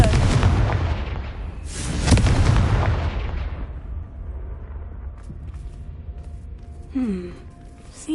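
Confringo fire blast spell cast in Hogwarts Legacy: a loud fiery explosive burst, then a second roaring blast, trailing off into quieter ambience with a few small effects afterward.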